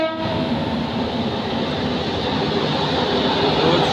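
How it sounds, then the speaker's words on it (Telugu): A goods train hauled by a WAG-9 electric locomotive rolls past a station in Hyderabad, a steady loud rumble of wagons with rail noise filling the whole stretch without a break. "అటు చూస్తుంటే ఇప్పుడు గూడ్స్ ట్రైన్ వస్తుంది."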